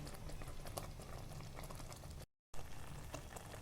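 Mango chunda with jaggery, sugar and spices simmering in a pot, a steady dense bubbling and popping throughout, broken by a brief silent gap.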